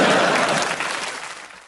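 Studio audience at a British panel show breaking into a dense, loud round of applause that tapers off over under two seconds, with no talk over it.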